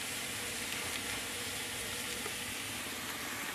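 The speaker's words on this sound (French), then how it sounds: "On fait revenir des petits oignons au beurre, bien sûr." Small onions sautéing in butter in a pan for a Siam squash gratin, a continuous even sizzle and crackle at close range with no voices.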